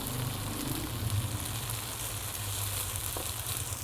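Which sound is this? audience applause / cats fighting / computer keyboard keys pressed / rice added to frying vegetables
rice added to frying vegetables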